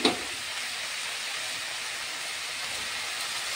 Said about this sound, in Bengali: তো এবার আমি ঢাকনাটা খুলে দেখব।